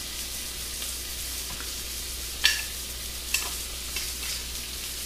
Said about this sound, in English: I'm going to put my chicken in